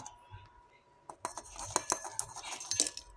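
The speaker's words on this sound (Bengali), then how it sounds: "হামাদাস্তায় থেতো করে নেব" Fried dried chilies are pounded in a metal mortar with a metal pestle: after a quiet start, a run of sharp, close metallic clinks and knocks comes in an uneven rhythm, with a faint voice in the background.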